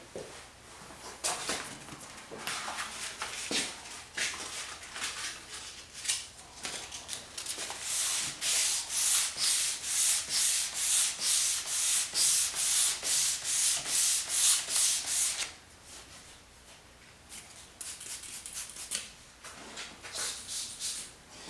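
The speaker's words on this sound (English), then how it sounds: "I just need to finish sanding that little piece there" Hand wet sanding of a desk surface with sandpaper and water, a close, steady run of rhythmic rasping back-and-forth strokes that speed up into a fast even scrubbing before slowing again, with no talking.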